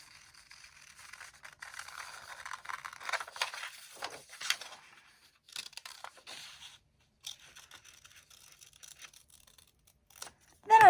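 Scissors snip through a paper giraffe ear pattern, giving soft, close, intermittent rustling cuts and paper scrapes in uneven bursts with short pauses between.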